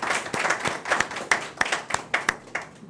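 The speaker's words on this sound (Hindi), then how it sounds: "जोरदार तालियों से अभिनंदन करें।" An audience at a Hindi poets' gathering applauds to welcome Professor Rajveer Singh Krantikari, with distinct, fairly sparse hand claps popping out close by over a soft bed of steady clapping.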